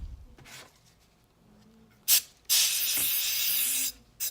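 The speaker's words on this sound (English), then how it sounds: "A couple drops of ink, my air compressor, and just light pressure" An airbrush-style air compressor blowing a few drops of alcohol ink at light pressure gives two brief hisses followed by a steady, close jet of air lasting well over a second.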